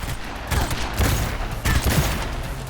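Rapid bursts of gunfire from a weapon in the video game Cyberpunk 2077, several loud shots in quick clusters over steady game background sound.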